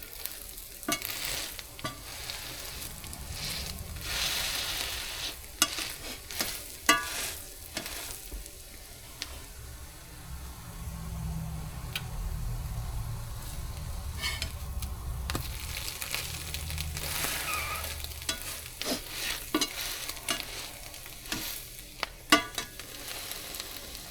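French toast made from homemade bread fries in a pan with a soft, continuous sizzle, broken by frequent close clinks and scrapes of a utensil stirring and flipping.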